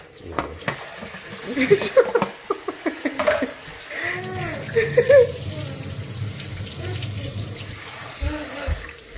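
Running tap water splashes and swishes as rice is rinsed in a pot, with clattering bursts early on, then a steady flow.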